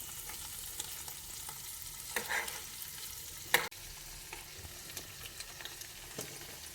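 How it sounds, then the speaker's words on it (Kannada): Cubes of paneer fry in ghee and butter in a pan, a steady soft sizzle with occasional stirring scrapes and one sharp clack partway through, no voices. "ಪನ್ನೀರು ಒಂದು 2 ಮಿನಿಟ್ಸ್ ತುಪ್ಪದಲ್ಲಿ ಬೆಣ್ಣೆಯಲ್ಲಿ ಪನ್ನೀರನ್ನ ಫ್ರೈ ಮಾಡ್ಕೊಳ್ಬೇಕು."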